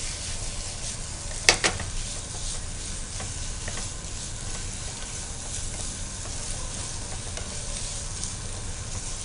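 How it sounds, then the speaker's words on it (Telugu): Chicken for Andhra chicken fry sizzles steadily in a pan while being stirred, with a constant close frying hiss, a sharp clink of the utensil early on, and soft scraping throughout. "మంచిగా దాన్ని నిదానంగా ఫ్రై చేసుకుంటూ ఉంటే"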